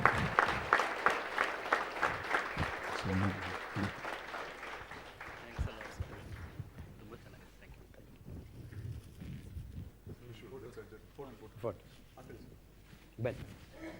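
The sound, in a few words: applause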